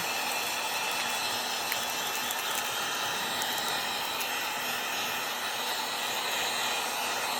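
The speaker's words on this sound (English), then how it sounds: "when you take these and you put a heat gun to it" A heat gun blows continuously while shrinking plastic wrap around a PlayStation 2 bundle, a steady close hiss and whir with faint ticking, no voices over it.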